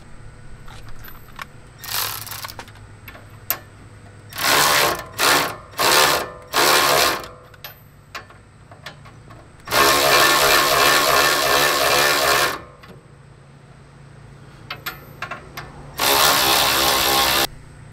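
Ratchet tightening a castle nut on a Toyota Tacoma spindle during a shock installation, giving sharp clicking bursts of varied length: short repeated runs, then a long sustained crank, with faint ticks between them, close up and with no talk.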